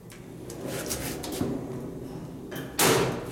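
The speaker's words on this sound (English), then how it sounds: "Let's shut the gate." A vintage Otis traction elevator at Haggar Hall, Notre Dame, with its manual gate sliding shut, a metallic scraping rattle that ends in a loud, close clack near the end.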